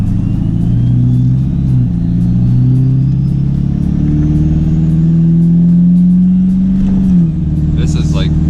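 A Ford 6.7 Powerstroke diesel pickup fitted with a non-VGT turbo pulls away under moderate throttle, its deep engine drone rising steadily in pitch with a turbo whistle climbing above, close and loud, before easing off near the end.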